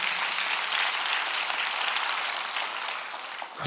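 A church congregation bursts into loud, steady applause during a Sunday worship service, thick clapping that holds evenly before cutting off.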